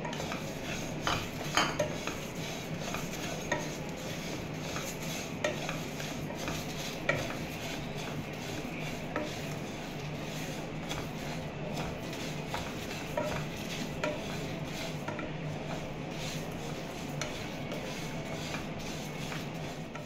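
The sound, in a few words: white mustard seeds and spices roasting, stirred in pan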